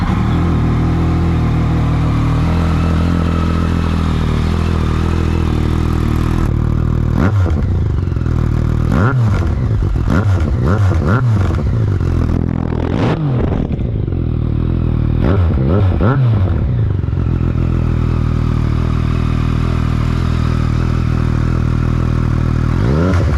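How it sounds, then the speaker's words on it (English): A Yamaha MT-09 motorcycle with an Akrapovic exhaust idles loudly and steadily, then gets several sharp throttle blips that rise and fall, close by. "let's start this with the new exhaust and see what this motorcycle sounds like."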